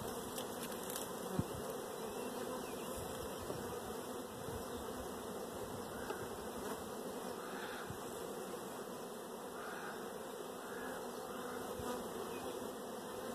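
Honeybees buzz around a heavy food frame pulled from a hive for a cell builder, a dense, continuous, steady drone close by with no voices.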